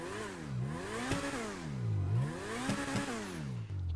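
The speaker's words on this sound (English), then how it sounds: "I also wanted to point out the exhaust note." The Entity XF supercar in GTA 5 Online revs up and down repeatedly, its exhaust note rising and falling in clear sweeping waves with a few clattering pops, heard alone without talk.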